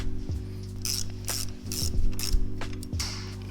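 A ratchet clicks in short bursts while tightening a brake caliper bolt on a Honda Rebel motorcycle, close and crisp, with several quick pawl runs separated by brief pauses, no voices.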